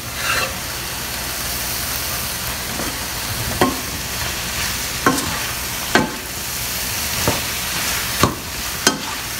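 Okra (bhindi) fries in a pan with a constant close sizzle and hiss, broken by repeated sharp scrapes and taps of a spoon as it is stirred every second or so, with no talking.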